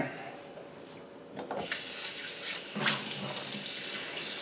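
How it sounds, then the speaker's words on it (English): Tap water runs steadily into a slow cooker holding seasoned meat, a continuous close splashing stream that grows louder partway through, with no talking. "And then we'll be adding some water to it."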